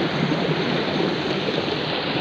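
Tubewell water pours steadily into a large pool that feeds irrigation channels for the fields, making a constant rushing, splashing roar that stays close and loud, with no talk.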